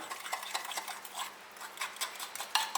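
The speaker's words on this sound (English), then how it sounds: "So in that goes 75 grams of sugar, 3 egg yolks. I'll just mix that around." Sugar and egg yolks being mixed in a bowl for custard, a quick series of light clinks and scrapes of utensil against the bowl in an uneven rhythm, close and fairly quiet, with no talk.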